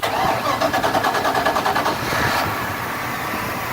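A nearby fuel-injected inboard engine on a 2010 Monterey 318 SC boat turns over with quick rhythmic cranking for a couple of seconds, then fires and drops into a steady rumbling idle.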